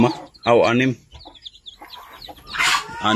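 Hens and newly hatched native chicken chicks, heard up close: loud bursts of hen clucking with high, thin chick peeps scattered between them.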